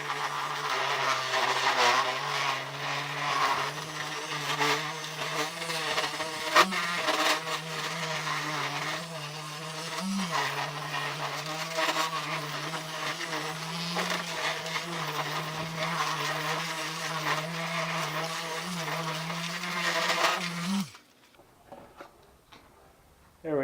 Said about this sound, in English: so I'm going to take this buffer and get the pad on there